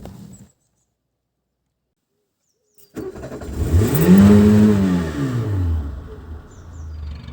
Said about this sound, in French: nous allons simplement démarrer la voiture en suivant les instructions